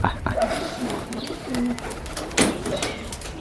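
Pigeons coo in short low bursts amid a busy, cluttered background, with a brief sharper sound near the end.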